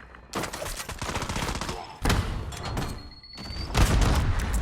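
Bursts of heavy hand cannon gunfire in Black Ops 6 erupt in three loud volleys, with booming low-end impacts and a brief high whine between shots.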